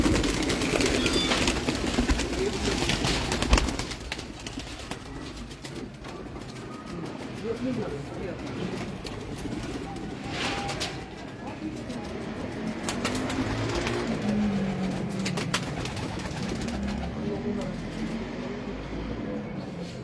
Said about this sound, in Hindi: अपने शागिर्द के घर आए हुए हैं कबूतर